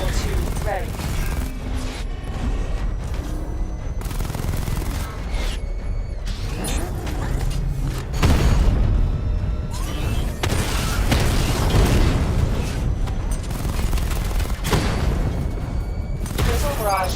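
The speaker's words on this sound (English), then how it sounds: "Missile barrage level 2 ready." Dense, continuous rumbling booms and mechanical clatter from a missile barrage in Batman: Arkham Knight, loud and sustained throughout with overlapping blasts and game effects.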